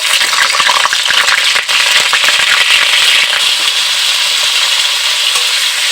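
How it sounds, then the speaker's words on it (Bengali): Cauliflower florets fry in hot oil in a wok, a loud, dense sizzle with sharp crackling pops that gradually settles into a steadier hiss, with no talking. "ফুলকপিগুলোকে একটু লালচে রং করে ভেজে নিতে হবে।"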